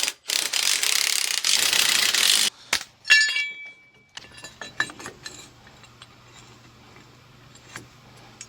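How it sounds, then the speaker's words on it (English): A trailer jack is refitted on a Big Tex utility trailer. A loud burst of scraping comes first, then ratcheting clicks and metallic clinks. Scattered small knocks follow close by, and no one speaks. "And jack is going back on."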